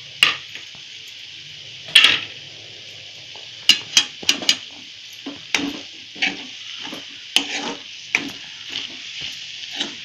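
Chana dal vegetable curry stirred in a pan, with a series of irregular close scrapes and clinks of a spoon against the pan over a faint background sizzle.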